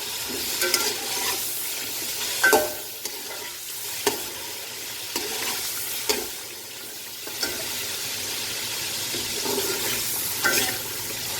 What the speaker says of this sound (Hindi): प्याज को तेज़ आंच पे मैं चिकन को फ्राई कर रही हूँ।